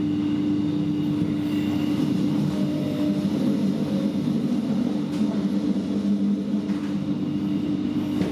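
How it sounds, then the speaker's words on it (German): DB class 628 diesel railcar braking hard on the Weschnitztalbahn, a dense steady rumble with low drone and rolling noise, close and continuous without voices. "Doch plötzlich bremst unser Zug stark ab"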